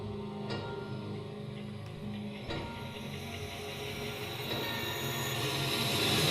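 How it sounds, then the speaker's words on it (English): A train rumbles along with metallic wheel screeching rising over the rolling noise, growing louder toward the end. "A little bit of screech. The train."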